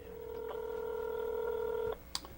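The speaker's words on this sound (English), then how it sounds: "Here's Cammie's number. We're going to try one more time." Phone keypad tones: a long steady dial tone followed by a short beep, clear and close, with no voices.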